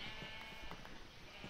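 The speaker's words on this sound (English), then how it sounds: "Get out of there, you stupid sheep." A sheep bleats faintly in the video game Minecraft, a short, quiet call over a soft, steady background, with no talking.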